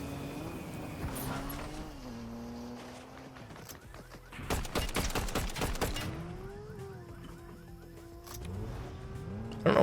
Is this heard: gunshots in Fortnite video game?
yes